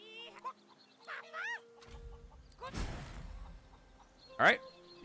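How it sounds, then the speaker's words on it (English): A rooster in a role-playing video game, crowing and clucking in short game-sound bursts mixed with other effects and a loud thump, while a player talks quietly over it. "The rooster."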